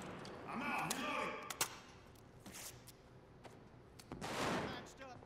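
Bursts of video-game gunfire in America's Army: Proving Grounds, several sharp shots and short volleys spread across a few seconds, with players' voices heard between them.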